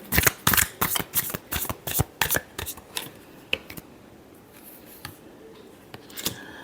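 Tarot cards being shuffled close by: a rapid run of crisp riffling slaps that thins out into scattered softer card sounds.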